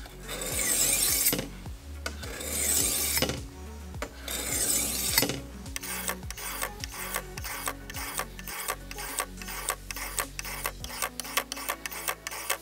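A kitchen knife is drawn through a sharpener: three long, loud rasping strokes come first, then a quick run of many short, scraping pulls, each one distinct.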